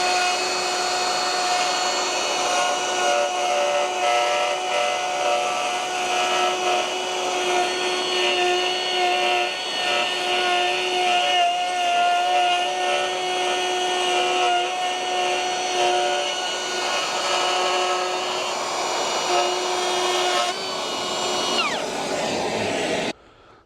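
A Milwaukee 1/2 inch router cuts wood with dust collection attached, a loud, steady high-pitched whine with a whooshing suction hiss running continuously, then winding down abruptly at the end.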